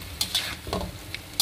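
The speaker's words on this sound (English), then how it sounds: "You gotta keep stirring it until it's right." Braised pork for Taiwanese lu rou fan stirred in a wok as its rendered liquid reduces: a few short, close scrapes of the spatula against the metal over a soft, steady sizzle, with no talk.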